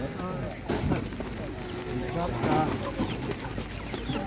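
Chickens, including young laying hens and Czech Dominant birds, cluck amid busy animal-market noise, with people talking nearby and a sharp clatter now and then.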